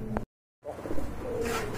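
Large sky-blue pigeons at a pigeon sale give low, rolling coos close by, broken by a brief drop to silence before the cooing and background murmur resume.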